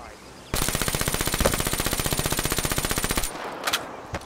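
Automatic fire from a gun with no attachments in Black Ops 3, a fast even burst of close, loud shots lasting almost three seconds, then stopping, with brief faint sounds afterward.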